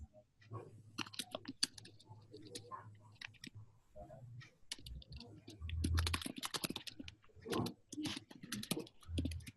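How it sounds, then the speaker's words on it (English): Faint, scattered keyboard clicks from a computer during an online meeting, soft irregular taps with brief gaps, picked up quietly over a remote call line. "I hear typing."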